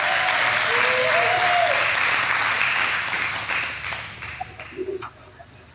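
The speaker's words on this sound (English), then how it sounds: "Hey, everybody here's clapping for you." An audience bursts into dense, loud applause that holds steady for a few seconds and then thins into scattered claps as it dies away.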